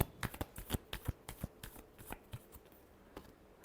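Tarot cards being shuffled by hand give a quick series of crisp riffling snaps, close and fairly quiet, tapering toward the end.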